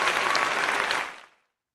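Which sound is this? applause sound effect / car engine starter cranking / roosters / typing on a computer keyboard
applause sound effect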